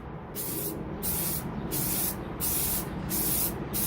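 A spray paint can laying a first coat on a 3D printed helmet, loud close hissing in repeated sweeping bursts with brief gaps between passes, nothing else heard.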